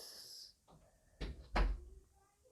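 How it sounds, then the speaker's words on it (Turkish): A door closing in the mobile game PUBG Mobile, heard as two sharp thuds in quick succession, close and fairly loud, following a brief hiss and quieter rustling. "Kapı kapanma sesi duydum."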